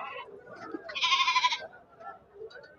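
A Rajasthani goat at a village market gives one loud, close bleat, with fainter bleats and livestock murmurs around it.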